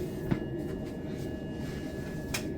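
Steady low rumble and rattle of a Class 377 train moving along the track, heard from inside a first-class carriage, with faint clicks and a brief knock near the start and end; no one speaks.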